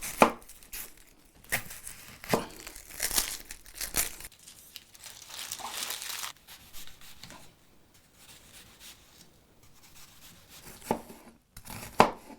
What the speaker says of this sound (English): let's go ahead and get started on chopping up that onion